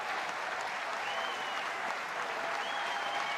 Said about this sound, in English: This partial crowd trying to get behind the junior left-hander Daniel Levitch.